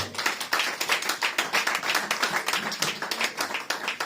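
A church congregation at a Sunday service claps in a brisk, steady rhythm, many hands striking together loud and close for the whole stretch without a break.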